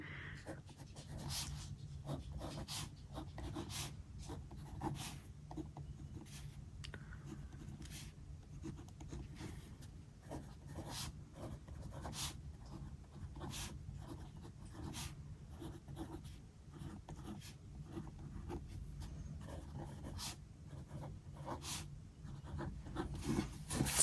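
A pen scratches on paper while someone writes out a planner or scoreboard, faint quick strokes ticking irregularly throughout over a soft room hum, with no talk.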